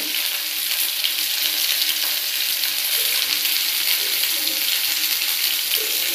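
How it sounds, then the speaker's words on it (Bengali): Beans and carrots frying in a pan with a steady, close hiss of sizzling oil, plus occasional faint stirring sounds underneath. "বিনসগুলো দিয়ে দেবো, গাজরটাও দিয়ে দেবো। দিয়ে আমি একটু হালকা লাল করে ভেজে নেব।"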